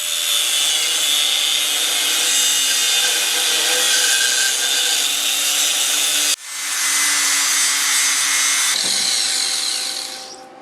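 Steady, loud grinding of a power tool slotting holes in metal coilover mounts for a truck build, running continuously for about ten seconds with a brief pause and a shift in pitch partway through, with no talking.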